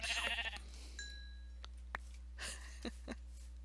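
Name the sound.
sheep bleating in a video game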